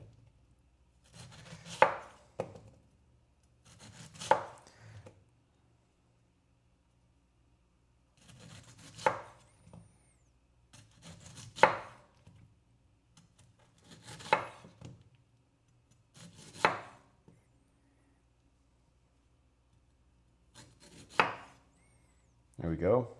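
A knife chops through a pineapple on a cutting board in about nine separate thuds, spaced a few seconds apart, close and crisp against a quiet kitchen.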